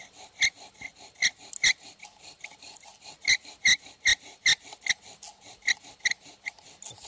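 A wooden fire drill spins against a board while someone tries to start a fire, giving a series of dry, raspy scraping strokes in an uneven rhythm, close and fairly clear with no talk.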